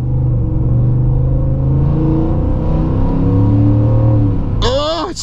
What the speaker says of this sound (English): Hold on, we're accelerating, let's take a listen.